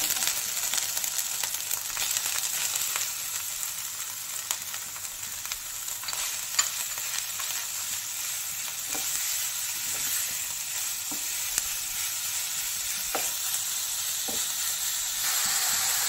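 Beetroot fries in a pan, giving a dense, steady sizzle that holds loud and even throughout, with occasional faint stirring scrapes beneath it.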